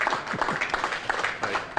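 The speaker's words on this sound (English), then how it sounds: "Big round of applause for Gilly Black" An audience at a poker tournament claps for a player, with a short, fairly quiet burst of scattered handclaps.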